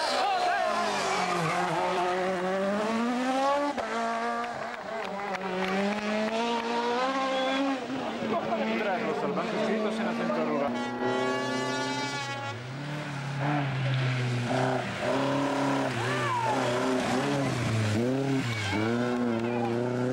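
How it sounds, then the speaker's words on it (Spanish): A rally car engine on a 1990s Asturias rally stage, approaching and revving hard with loud, continuous rising and falling pitch throughout, joined by skidding tire noise. "Oírse el lamido del motor que se acercaba y las luces reflejándose en las vallas."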